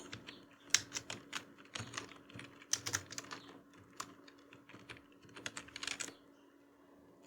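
Someone types on a computer keyboard in an Excel spreadsheet, with irregular bursts of crisp, close keystrokes over a faint steady hum.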